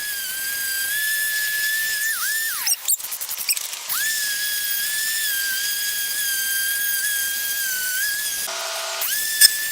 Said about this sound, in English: I went ahead and took my sander and cleaned out the outside of the bricks